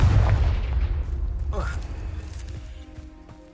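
A booming explosion from a Harry Potter-style spell cast in a video game bursts loudly at the start and rolls away into a long decaying rumble, with a spoken voice present.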